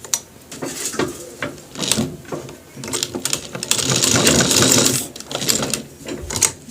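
A sewing machine stitching a coat's bone pocket runs loud and close in short clattering bursts, then one longer steady run in the middle, with brief pauses between.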